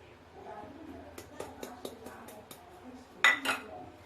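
Light clinks of a spoon against a bowl while scooping starch, several quick taps followed by a louder scrape and clatter, close up in a quiet room.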